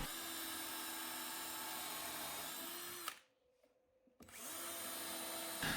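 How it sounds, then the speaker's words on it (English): A power drill drives deck screws into a table saw sled: a loud, close, steady whine that stops abruptly for about a second, then starts again and continues. "We want to screw these in tight."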